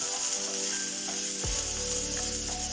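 Chopped ginger and green chillies fry in a pan of oil, giving a constant near hiss and crackle with a sharp clack of a utensil midway, no voices.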